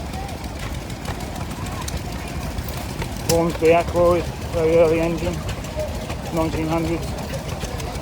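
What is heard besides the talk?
Hornsby Ackroyd early stationary engine running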